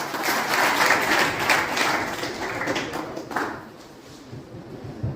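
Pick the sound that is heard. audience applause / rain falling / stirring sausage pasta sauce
audience applause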